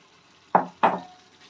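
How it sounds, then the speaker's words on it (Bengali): Fried eggs dropped one at a time into a thick South Indian-style masala curry gravy in a pan: two soft, close plops with a brief sizzle, about a quarter-second apart, then quiet. "ভেজে রাখা ডিমগুলো এবার আমি এক এক করে দিয়ে দেব"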